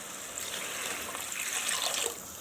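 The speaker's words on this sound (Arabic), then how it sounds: "هنزودها شويه ميه" Water poured into a pot of simmering tripe in tomato sauce, a steady trickling, splashing flow lasting the whole moment, close and fairly quiet, with no talking.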